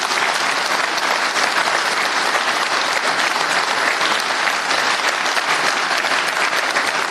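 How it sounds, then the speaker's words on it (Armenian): Sustained audience applause fills the room for a woman introduced from the team, a dense, steady wash of many hands clapping at close range with no pauses and no talk over it. "խնդրում եմ ծափահարություններ իրեն։"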